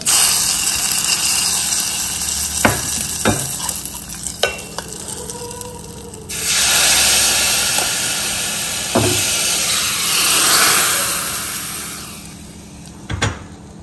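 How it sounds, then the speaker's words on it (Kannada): Hot tempering of mustard seeds, a Byadagi chilli and curry leaves poured into a mustard-and-mango dish, a loud steady sizzle and hiss swelling over several seconds, with a few sharp utensil clinks before and after. "ಇವಾಗ ಈ ಒಗ್ಗರಣೆಯನ್ನು ಸಾಸಿವೆಗೆ ಹಾಕೊಳ್ಳೋಣ."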